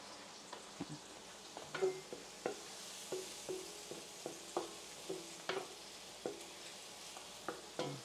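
Garlic and onion sauté in a pan for beef kaldereta, a soft steady sizzle broken by repeated light scraping and stirring clicks at an uneven rhythm, quiet and close.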